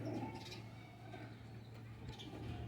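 A Ferozpuri breed pigeon makes soft, low cooing calls that are faint and seem close, over a steady low hum in a quiet setting.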